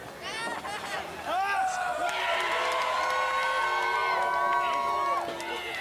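A wrestling arena crowd cheers, whoops and jeers in a loud mixed roar that swells and holds, with a commentator's voice talking over the noise.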